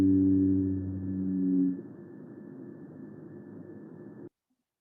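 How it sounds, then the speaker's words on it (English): A blue whale call, sped up six times, sounds as a low, droning harmonic moan that slides and fades into a steady hiss before cutting off abruptly. "A and B type calls have been identified for blue whales"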